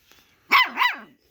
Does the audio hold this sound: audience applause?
no